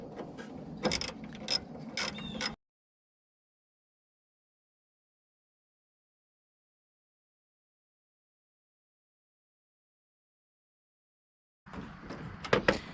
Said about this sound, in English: Let's go ahead and tighten them up.